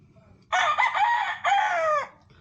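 A broodcock rooster gives one loud, close crow in two strained, drawn-out parts lasting about a second and a half, over quiet background noise.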